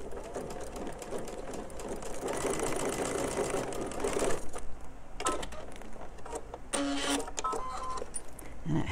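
A home sewing machine stitching fabric in a quilting setting, with a steady mechanical whir and rapid needle clatter running for a few seconds, then dying away into scattered clicks and brief bursts.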